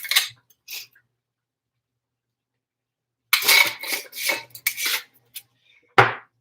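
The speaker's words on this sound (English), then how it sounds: "I have to cut up some onion too." Onion being cut up for a homemade red sauce, heard as short raspy knife strokes against a board in uneven bursts with quiet gaps, close and fairly soft, ending on a sharper clack.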